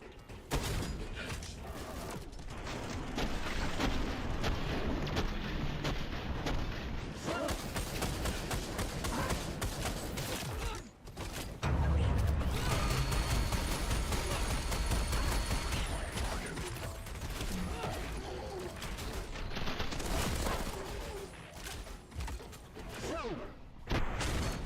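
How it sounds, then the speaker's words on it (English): Rapid, dense shotgun fire and explosions in a video game, with a tank among the targets, make a loud, almost continuous barrage. A heavy low boom lands midway, with brief lulls between bursts. "That recoil on this shotgun's not great."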